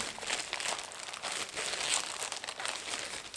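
A heavy black package is torn open with steady, loud crinkling and crumpling of wrapping close by, continuous for a few seconds with no talking.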